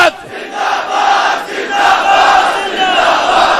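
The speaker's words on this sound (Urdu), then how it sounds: "اینج نعرے لوائے تاجدار ختم نبوت" A large crowd chants the religious slogan Tajdar-e-Khatm-e-Nabuwwat at a Tehreek-e-Labbaik rally, with loud, sustained massed voices rising and falling in rhythmic surges.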